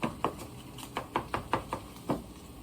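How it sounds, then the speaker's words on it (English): A utensil chops up scrambled eggs in a pan, giving a steady run of about ten sharp, close taps and knocks against the pan with no talking. "But right now you want to cut them up."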